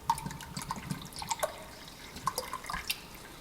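Water trickles and drips into an aquarium sump as small pods are poured in from bottles, giving soft, intermittent splashes and droplets at close range without talk.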